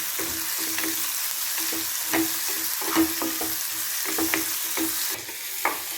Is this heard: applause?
no